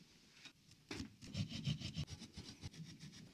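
A hand saw cuts slowly through wood in a series of short rasping strokes, quiet and close, with a brief pause before the strokes resume at an irregular pace.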